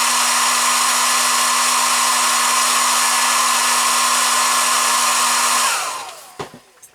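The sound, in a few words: hair dryer running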